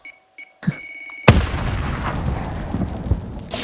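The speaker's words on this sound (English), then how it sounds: "Go for a grenade, yeah. Frag out!" A frag grenade explodes in a Call of Duty match after a few faint game beeps, a sudden sharp blast followed by a long rumbling, crackling decay, loud and close.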